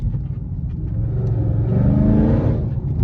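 A Chrysler 300C engine revs up hard through a deep, rumbling Corsa exhaust, the roar building and holding loud before easing slightly at the end.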